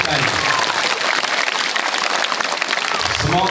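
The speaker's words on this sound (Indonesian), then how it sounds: "Beri tepuk tangan untuk adik kita ini." Audience applause for a young student at a madrasah school gathering (MTsN 1 Labuhanbatu), a dense, steady wash of clapping filling the whole moment at even loudness, with a voice talking faintly underneath.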